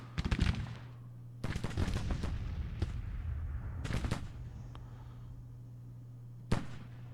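Civil War musket volleys in Grand Tactician crack out in a few ragged bursts of overlapping shots, moderately distant, separated by quieter gaps with one last lone report.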